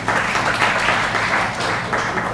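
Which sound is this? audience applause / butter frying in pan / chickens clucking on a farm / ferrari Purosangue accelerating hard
audience applause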